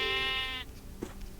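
A single sheep bleats in the Minecraft video game, one clear nasal bleat lasting about half a second, followed by quiet background sounds.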